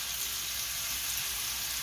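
Beef sizzling in a hot pan, a dense continuous hiss and crackle of frying heard up close and fairly loud throughout, with no talking.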